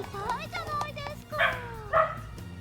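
Dogs bark in a short burst of two yelps close by, under a man's speech, all fairly quiet.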